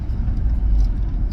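Suzuki Grand Vitara 2.4L driving on the road, a steady low engine and road rumble continuing without a break, close and fairly loud, with a faint jingle near the end.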